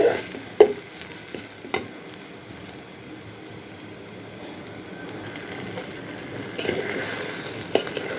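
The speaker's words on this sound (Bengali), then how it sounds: "মিক্সড করার চেষ্টা করবো মশলাটা" Rice and spices being stirred as they fry in a pan: a low, continuous sizzle with a few distinct spatula knocks and scrapes, growing a little busier toward the end.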